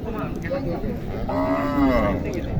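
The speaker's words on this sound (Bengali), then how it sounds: "এখানে একটি গরু আছে দেখেন শাহিওয়াল" A Sahiwal cow at a village cattle market gives a drawn-out moo, fairly close and clear, with crowd noise and talk faintly underneath.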